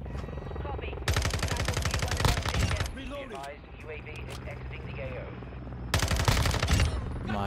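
Submachine gun fire in the Call of Duty: Modern Warfare II multiplayer video game comes in two loud rapid bursts, separated by a stretch of other game noise, with chatter from players underneath.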